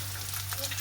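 Dried red chillies frying in oil in a pan, a steady close sizzle with faint crackles under a low constant hum.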